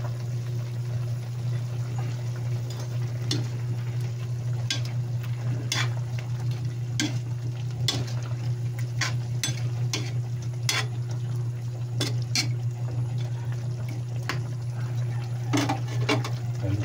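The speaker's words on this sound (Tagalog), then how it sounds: "Tapos ilagyan natin ng patatas." Potatoes added to pork adobo with oyster sauce, frying in a pan: a steady loud sizzle throughout, broken by scattered clicks and scrapes from stirring.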